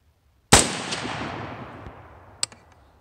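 A single sharp gunshot cracks loudly at an outdoor range during 100-yard zeroing of a Holosun red dot, its echo fading slowly behind it, followed by a faint metallic click.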